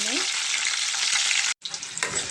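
Loud, dense sizzling of tempering spices frying in oil, briefly cut off by a short gap before the crackle resumes.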